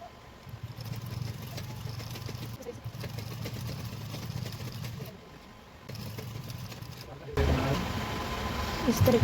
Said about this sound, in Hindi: इस तरीके से यहाँ पर लॉक सिलाई लगा देंगे।